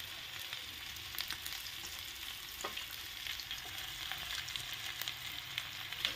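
Masala-coated fish pieces fry in oil in a pan after being flipped, giving a soft, even sizzle with light crackles and occasional stirring taps, quiet and with no one speaking.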